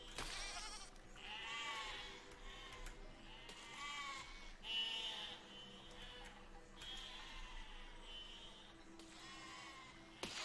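Sheep in the video game Besiege bleat repeatedly, several wavering cries one after another, fairly close and clear over a low background, with no speech.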